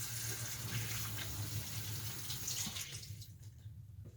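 Hands are washed under a running kitchen tap during a coffee-filter craft session, a steady close water stream with splashing that cuts off near the end.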